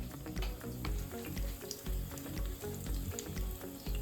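An iguana empanada fries in a pan, browning on both sides, with a steady, loud sizzle and rhythmic bubbling that keeps going throughout, alone with no talking.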